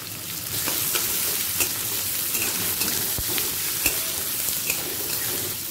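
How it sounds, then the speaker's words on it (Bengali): Chopped garlic and onion frying in white oil in a wok, a steady close sizzle running throughout with occasional sharper crackles and pops. "আবারও কড়াতে সাদা তেল দিয়ে দিলাম। দিয়ে দিচ্ছি রসুন কুচি, দিয়ে দেব পেঁয়াজ কুচি"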